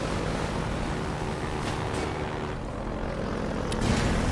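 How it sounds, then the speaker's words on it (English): Helicopter in the video game Half-Life 2, a steady droning rotor and engine rumble filling the whole stretch at a constant, fairly loud level with no talking over it. "This is the area with the helicopter fight."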